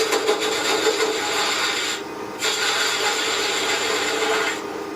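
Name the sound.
shaping wood with a detail gouge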